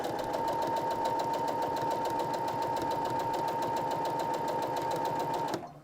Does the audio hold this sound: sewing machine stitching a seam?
yes